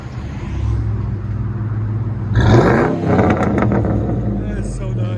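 A 2001 Ford F-150 with a 5.4L Triton V8 and Flowmaster Outlaw true dual exhaust rumbles at idle nearby, then gives a deep rev with a popping burble; people talk over the engine.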